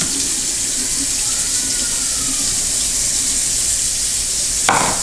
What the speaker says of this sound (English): We're gonna use warm water, and we have to rinse it off.